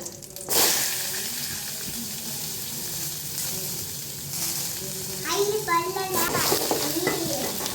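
Onions hit hot oil in a pan, giving a steady hiss and sizzle with stirring clatter through the middle and a louder burst near the end.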